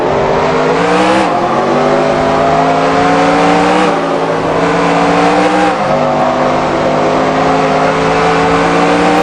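Race cars in the NASCAR Racing 2003 video game at Bristol Motor Speedway, accelerating as the green flag drops: a loud, continuous pack of engine roars climbing in pitch through repeated gear shifts, with no talk.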